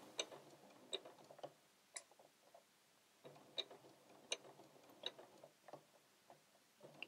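A sewing machine runs in short stop-start bursts while stitching fabric for a reversible bib, giving quiet, rhythmic mechanical ticks with pauses between the runs.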